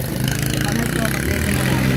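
A Honda TMX125 motorcycle engine idles with a suspected stator fault, its close, steady rhythmic putter filling the two seconds while people talk over it.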